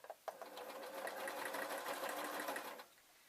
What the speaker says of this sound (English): Okay, so I'm just going to keep on sewing.